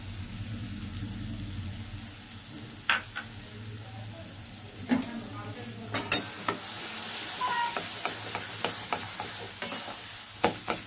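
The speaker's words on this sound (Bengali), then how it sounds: "দিয়ে ভালো করে আমি মিশ্রণটাকে নাড়িয়ে নাড়িয়ে ভেজে নেব" A carrot mixture fries in a pan while being stirred, a steady soft sizzle broken by scraping and clinking strokes of the spoon against the pan.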